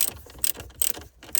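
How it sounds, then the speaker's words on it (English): A screwdriver bit ratchets in quick clicking bursts as screws come out of a Ford Focus ST centre console, close and brief, with no talking. "First thing I have got to do is just quickly take out, I should say, the screws that are just here."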